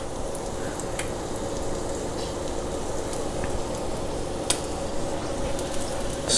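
Bread with its inside removed fries in olive oil in a hot pan. It gives a steady, dense sizzle throughout with a few faint clicks and taps, and no voices.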